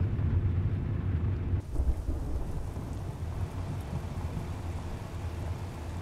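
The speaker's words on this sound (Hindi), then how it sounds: "ओ बारिश देखते" Heavy rain and rumbling thunder in the Euro Truck Simulator 2 game while a road train drives a dangerous mountain road, a dense continuous downpour with deep low rumble, loud and steady throughout.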